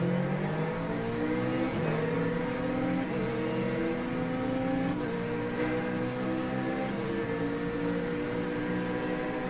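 Corvette GT3 race car under full throttle, a loud, steady engine roar with rising harmonic sweeps as it climbs through the revs and shifts gears several times, heard close from inside the car with no talk.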